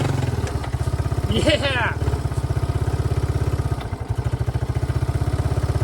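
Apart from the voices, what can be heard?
Yamaha YTM200 three-wheeler engine revving on trail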